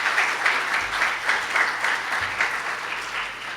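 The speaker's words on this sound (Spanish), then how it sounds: "Regalémosle un aplauso." A church audience breaks into loud, close applause, a dense wash of clapping with pulsing swells that carries on without any talk.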